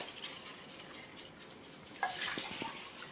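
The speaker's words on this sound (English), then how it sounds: "we're going to take tap water and we're going to fill these two things here real quick" Tap water runs into containers, first as a soft hiss and then as a louder splashing pour that starts suddenly and keeps going near the mic.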